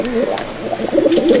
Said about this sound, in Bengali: এই হচ্ছে নট ডাকছে দেখুন।